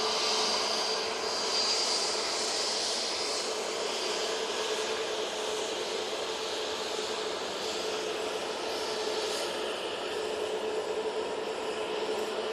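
A Jet2 Airbus A321neo departing Manchester Airport makes a broad, steady jet roar that fills the whole stretch at moderate distance, with no voices over it.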